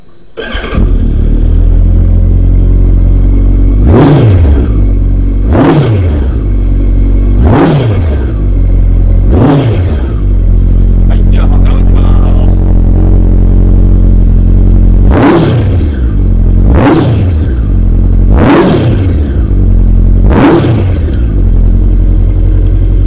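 A Honda CB1300 Super Bol d'Or motorcycle with a full titanium dual exhaust revs hard in repeated sharp blips, each one climbing fast and falling back to a steady idle, loud and close with no talk.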